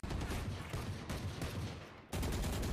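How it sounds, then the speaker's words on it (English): Gunfire in Valorant, shots punched through a wall, a dense burst of cracks running through the whole stretch and jumping louder near the end, close and heavy with no talk over it. "I accidentally shot through the wall."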